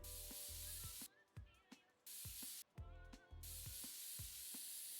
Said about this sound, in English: Spraying. I think we did all the spraying we can do.